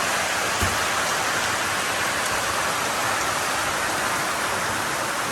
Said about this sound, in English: Rain coming down even harder now.